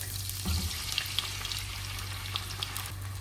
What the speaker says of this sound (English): Same pan, I'm going to add little oil. I'm going to add the egg